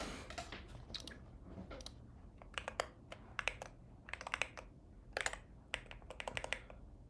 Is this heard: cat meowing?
no